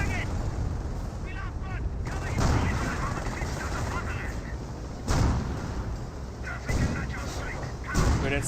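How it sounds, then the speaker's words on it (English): A Calliope rocket barrage in the video game Company of Heroes, with dense booming blasts and rapid crackling fire in loud bursts, and a voice talking over the din. "And now do have a Calliope rocket barrage onto the Nebworkers."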